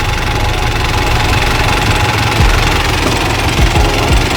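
An Isuzu 88 turbo engine in a Thai iTaen farm truck with a header exhaust idles loud and close, giving a rough, knocking rumble with a few heavier thumps toward the end.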